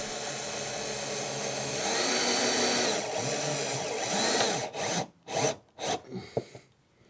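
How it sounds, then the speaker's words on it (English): A power driver with a nut-size adapter drives a screw in, making a continuous close whirring and grinding for about five seconds, then a few short bursts as it stops and restarts. "I'm taking the adapter for the right size of the nut. I'm putting it on the top and then we can screw"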